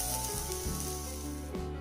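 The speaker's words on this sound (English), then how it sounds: "You can now fry this for another 2 to 3 minutes." Potato, carrot and green peas frying in a pan for a mixed vegetable curry, a close, continuous sizzle with a few short scraping stirs.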